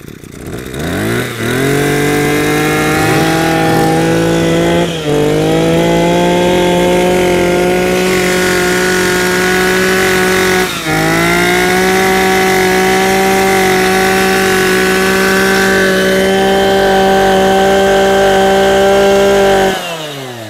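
A Maruyama 26cc brush cutter engine with a 34 mm bore, just pull-started, runs loud and close with a steady buzzing drone, dipping briefly a few times as the revs shift.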